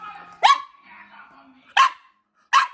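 Milo, a dog, lets out three sharp, close barks about a second apart, with near-silence between them.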